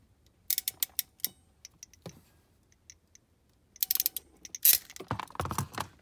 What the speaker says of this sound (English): And we'll just go ahead and crimp it down.